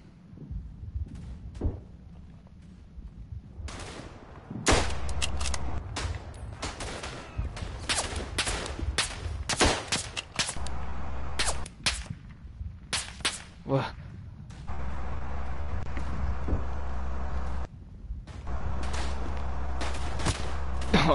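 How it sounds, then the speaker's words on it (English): Gunfire aimed at the player in the World War I shooter Verdun: scattered rifle cracks at first, then loud, dense volleys of sharp shots, some close and some distant, with brief pauses between bursts and talking at times. "Stop shooting at me."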